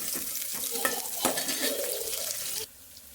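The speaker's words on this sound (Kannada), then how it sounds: "ನೋಡಿ ಒಗ್ಗರಣೆ ಹಾಕ್ತಿದ್ದೀನಿ" Chopped onion tempering hisses and sizzles steadily in hot oil, with a few stirring clinks against the pan, before cutting off near the end.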